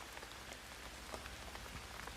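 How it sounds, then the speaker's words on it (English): Rain falling as a sound effect in a children's story: a steady, soft patter of drops on a surface, quiet and continuous throughout, with no voices. "she cried as the rain plopped down"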